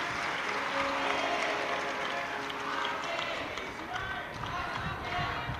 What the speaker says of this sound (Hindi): एक बार यजमान परिवार के लिए जोरदार ताली बजाकर उनके लिए साधुवाद करें।